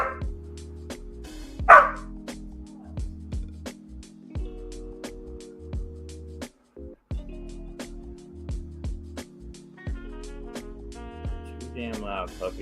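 A puppy lets out a loud, sharp bark near the start, over a steady electrical hum and occasional clicks in a sculpting workspace. Nobody speaks.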